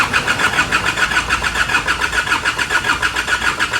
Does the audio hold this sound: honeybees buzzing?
no